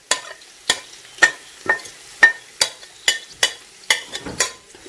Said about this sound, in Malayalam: വെജിറ്റബിൾ മൊത്തം കാബേജ്, ബീൻസ്, ക്യാരറ്റ് മൊത്തം വന്നിട്ട് മിക്സ് ചെയ്തിട്ട്